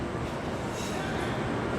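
A train arrives at a station platform in Sydney, a dense, continuous rumble and rush of rolling wheels and motor that stays loud and steady throughout the short stretch.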